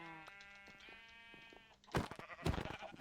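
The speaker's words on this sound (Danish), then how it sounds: "vores får er stadig herovre" Sheep bleating in the Minecraft video game, two loud bursts of bleats in the second half following a quieter stretch of steady tones.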